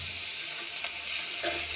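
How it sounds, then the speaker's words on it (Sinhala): Ingredients tempering in a hot pan give a steady bright sizzle and crackle, loud and close, with a couple of brief stirring scrapes and no talking. "දැන් මේක තරමක් ටෙම්පරාදු වෙලා තියෙන්නේ"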